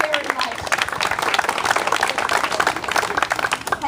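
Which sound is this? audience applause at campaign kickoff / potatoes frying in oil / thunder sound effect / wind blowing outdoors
audience applause at campaign kickoff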